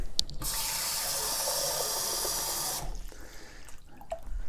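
A kitchen tap with a filter runs water into a jar for fermenting carrots, a steady close hiss of flowing water for nearly three seconds that then cuts off, leaving faint handling clatter.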